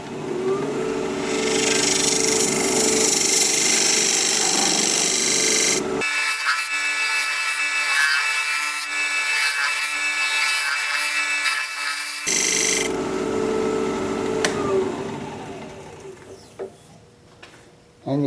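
A dovetail recess tool cuts into cherry plum wood spinning on a lathe, making a loud continuous scraping hum that stops abruptly, resumes, then fades to faint clicks.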